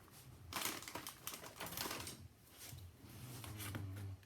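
Cheap scissors snip through Dollar Tree craft material for an Easter egg project, giving a few close, crisp clicking cuts in quick irregular bursts with no voices.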